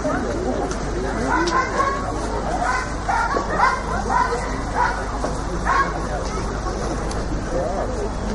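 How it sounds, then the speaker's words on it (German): A dog barks repeatedly in quick bursts amid voices and background chatter, the barks fairly close and irregular; the dog is about 1.5 years old. "Hund von Adolf."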